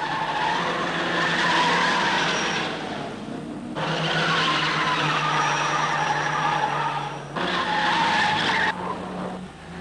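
Race cars at a 1960s circuit race screech into long tire squeals as an Isuzu Bellett spins out, several drawn-out skids of several seconds each over engine drone, loud and fairly close.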